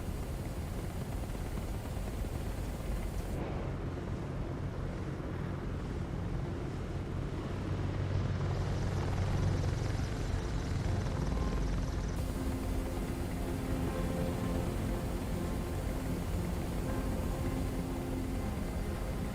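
An Apache-style Hunter helicopter in Microsoft Flight Simulator 2024 flies over Sicily, its rotor and turbine giving a continuous broadband whooshing drone that shifts slightly in tone partway through.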